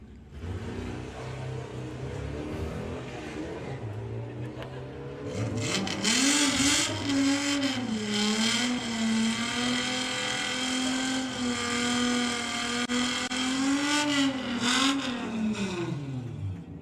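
Drag racing car making a solo bye run at Santa Pod, engine droning steadily and then rising into a loud, sustained high-revving roar that holds and wavers as it pulls away.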